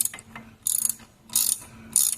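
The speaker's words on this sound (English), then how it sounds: "And now we'll get the front of the front drive shaft bolts off." A ratchet wrench taking out the front drive shaft bolts on a 2011 Jeep Wrangler, three short bursts of fast, close clicking with brief pauses between them.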